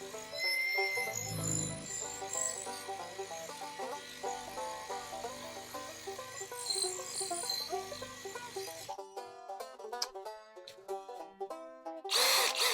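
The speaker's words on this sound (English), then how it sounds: "Goes through this concrete with that same 5/16 of an inch concrete bit" A hammer drill in hammer mode at speed 2 bores into concrete with a 5/16 inch masonry bit, whirring steadily for several seconds, then giving way to rapid, choppy mechanical bursts near the end, close and fairly loud.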